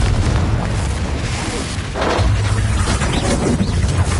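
A booming fiery explosion from the Confringo spell in the game Hogwarts Legacy, a loud, dense blast with crackling debris that fills the whole moment without any talk.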